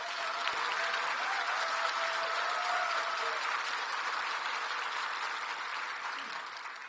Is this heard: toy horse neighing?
no